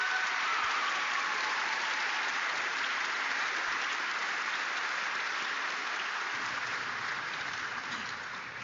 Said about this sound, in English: Please give us another round of applause for Ms.